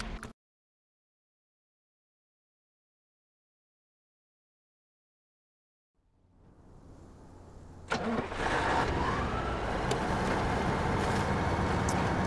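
A Taiga truck's engine cranks and starts in the SnowRunner driving game after a long silence, then settles into a loud, steady rumbling idle that stays close and constant to the end.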